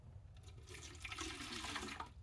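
A small amount of water is poured into a homemade gravity-feed oil filter container, a soft continuous splashing and trickling that rises and falls over a couple of seconds, close and fairly quiet, without speech.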